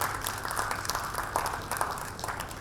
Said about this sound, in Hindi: ताज भाई के लिए तालियां हो जाए एक बार